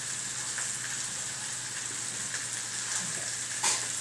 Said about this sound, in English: What we want is to start to get a little sear on both sides.